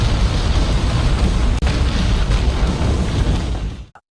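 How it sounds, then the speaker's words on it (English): Planet exploding as an animation sound effect, a dense, sustained roaring blast with heavy low rumble that holds loud throughout, briefly dips, then tails off abruptly to silence. "Luo Feng effortlessly obliterated the entire planet in an instant"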